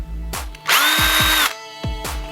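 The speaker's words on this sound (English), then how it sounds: "you want to drill a hole right there" A power drill with a 1/8 inch bit spins up in several short bursts while drilling a hole in a monopod, with one longer loud whining run, its pitch falling as it winds down each time.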